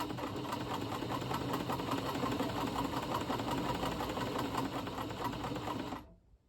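A Janome New Home Model 702 sewing machine runs steadily at close range, its fast, even stitching whir continuous for about six seconds before cutting off abruptly.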